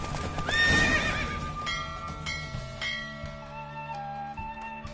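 Rapid hoofbeats of a galloping horse in a video game, The Witcher 3, with a whinny early on, followed by steady clip-clop and faint bell-like tones in the background.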